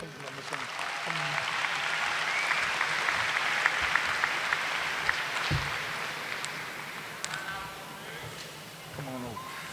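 Sustained applause from a high school ceremony audience fills the hall for nearly ten seconds, steady and dense with scattered voices and a few cheers mixed in.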